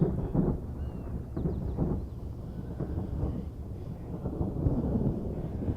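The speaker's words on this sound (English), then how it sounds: "It's kind of creepy, the thunder and stuff." Deep rolling thunder from the opening of the 2001 film Donnie Darko rumbles continuously, with low booming swells and a few faint high whistles above, and no voices.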